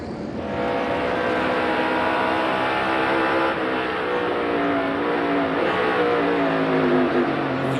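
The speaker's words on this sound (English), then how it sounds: "You can hear him on the brake, start downshifting to make sure he can get the car slowed down" A NASCAR race car at Charlotte Motor Speedway brakes hard and downshifts, its loud engine note dropping and stepping through gears, sustained and close for several seconds with no talk.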